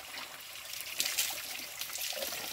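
A clear stream flows and trickles steadily nearby, a soft continuous babble of water with a few brighter splashes.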